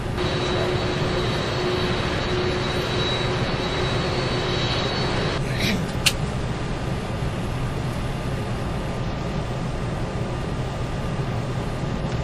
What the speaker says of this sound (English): we need a little bit of thrust to help her on her way